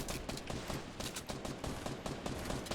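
Rapid bursts of automatic gunfire from a Fortnite battle royale match crack out in quick succession, close and continuous, with shots overlapping throughout.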